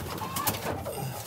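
Racing pigeons in a loft cooing softly and continuously, close by with a low warbling murmur and a few overlapping calls.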